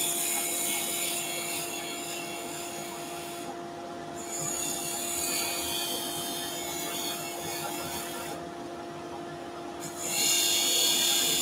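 A wood lathe cuts soft timber with a steady, loud, close scraping hiss that drops out briefly twice as the tool lifts off, then returns a little louder.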